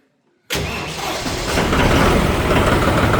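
A 2022 model tractor with about 1600 running hours starts abruptly after a moment of silence, its engine catching at once and settling into a loud, steady rumbling idle up close.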